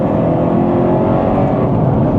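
An Alfa Romeo 8C V8 runs under load through a gear change with a slight throttle lift, a loud, dense, steady roar heard close, with no talking.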